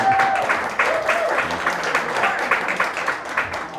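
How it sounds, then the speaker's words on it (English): Audience applause at a Lions Club meeting, a steady wash of many hands clapping at moderate distance, sustained throughout with no pauses. "Are we applauding that he's leaving?"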